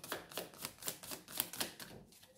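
A deck of tarot cards is shuffled in quick bursts, about eight crisp riffling clicks in a regular rhythm, close and fairly quiet with no talking.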